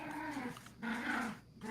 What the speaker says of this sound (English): I still have growling puppies over here.